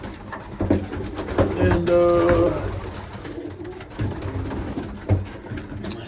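Young racing pigeons cooing inside a loft in the evening, several soft rolling coos close by, with a brief spoken word over them.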